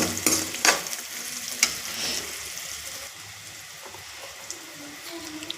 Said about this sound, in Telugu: పసుపు ఉల్లిపాయ ముక్కలు అన్నీ బాగా వేగాలి